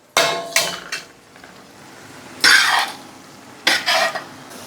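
Fried onions being stirred into a chicken chukka in a pan: several scraping, clattering utensil strokes against the metal come in uneven bursts, close and fairly loud, with quieter pauses between them and no talking.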